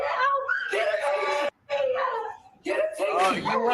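A student screams during a physical scuffle in a classroom, heard as two long, loud, strained vocal outbursts separated by a brief silence.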